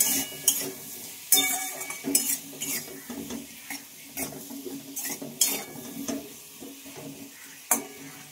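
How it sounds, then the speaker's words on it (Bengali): Salt and turmeric being stirred into potatoes and pointed gourd in a pan, a spoon scraping and clinking against the metal in uneven strokes over a soft, steady sizzle. "লবণ হলুদটা একটু ভালোভাবে আলু পটলের সাথে একটু মিশিয়ে নেব"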